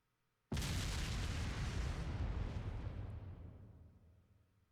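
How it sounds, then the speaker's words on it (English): A single big explosion in the role-playing game Trails of Cold Steel, linked to railway guns, goes off suddenly as a loud full-range blast and then rumbles and fades away over several seconds. "if you're gonna have a big explosion, you should probably show it"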